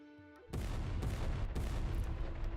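Artillery barrage pounding a hilltop in the video game Wandering Sword, a loud sustained rumble of dense explosions that starts suddenly after a brief quiet moment and rolls on without letup, with sharper blasts standing out along the way.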